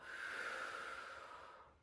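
A slow, airy exhale during a beginners' yoga class, a single soft breath drawn out for nearly two seconds and fading at the end, close and quiet with no talk over it.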